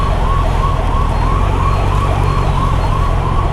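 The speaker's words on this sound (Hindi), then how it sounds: "तो एम्बुलेंस दिख क्यों नहीं रही," Ambulance siren on a road, heard from a Kawasaki Z900 superbike ride, a continuous wailing sweep sitting under heavy wind and engine roar that stays loud throughout.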